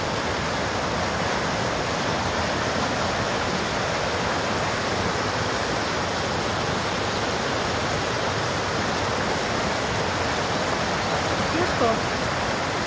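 Water rushes steadily down into a culvert on an off-grid homestead, a loud, constant roaring wash with no break.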